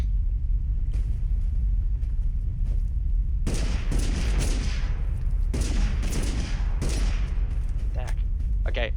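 Gunfire rattles through a round of Totally Accurate Battlegrounds, with dense bursts of shots and booming rumble over a constant loud game background, some volleys close and heavy, others thinner and more distant.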